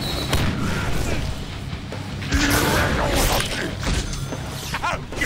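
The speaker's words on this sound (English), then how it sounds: "Flashbang!" A flashbang grenade going off in the Deadpool video game: a sharp bang with crashing, rumbling game noise and mechanical clatter around it, loud and close.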